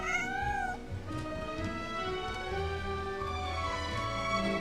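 A cat in the fantasy role-playing game Genshin Impact gives a couple of short, rising meows at the start, close and clear, followed by steady ambient game music with no talk.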